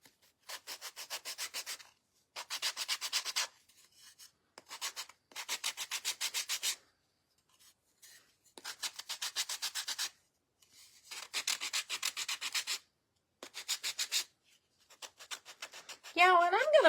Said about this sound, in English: Let's sand her little head.